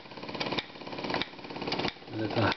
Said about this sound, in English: a little hammer banging away